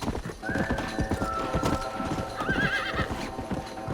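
A horse in the Western video game Red Dead Redemption trots with steady clip-clopping hooves and lets out a high whinny partway through, over a busy game soundscape.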